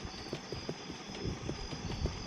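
Stolen horse in the Westbound game, hooves clip-clopping at an uneven walking pace, soft and faint over a low steady hum.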